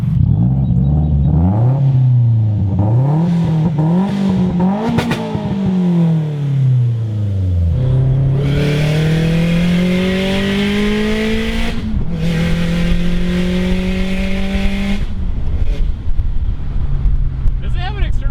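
Loud, close engine of an Audi A4 drift car with an external 38 mm wastegate, revving in repeated rising and falling sweeps, then holding long climbing pulls with a harsh turbo-like hiss; voices talk underneath.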